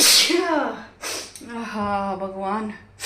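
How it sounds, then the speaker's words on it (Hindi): One sharp sneeze set off by spice dust while a woman blends coriander, mint, green chilli and chaat masala for pani puri water, followed by a short exclamation in a voice. "एकदम से छींक आ गई नाक में ना। जब मसाले डाल रही थी ना,"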